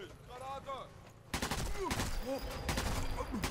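Rapid bursts of gunfire erupt loudly after a quieter start in the video game Sniper Elite 4, close and punchy, with game sound effects and some voices mixed in.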